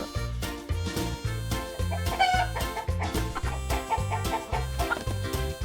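A domestic hen clucks in repeated short calls over steady, rhythmic backing music that fills the whole stretch.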